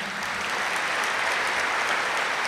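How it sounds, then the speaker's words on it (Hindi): An audience claps steadily and densely throughout, a loud, even wash of applause with no voices breaking through. "ताली तो बजाएं."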